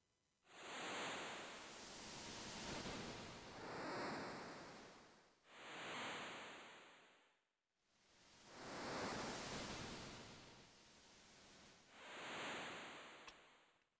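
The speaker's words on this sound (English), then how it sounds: "I kind of like how there's no music for this, and they just kind of play the waves" Ocean waves from the Final Fantasy VI video game roll in and recede in slow, regular surges, a broad washing hiss swelling and fading about every three seconds with no music.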